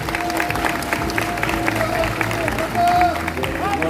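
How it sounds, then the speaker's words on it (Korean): Audience applause at a Korean political party gathering as hosts and guests stand to be introduced, a dense steady clatter of many hands with crowd murmur running through the whole stretch. "큰 박수 부탁드리겠습니다"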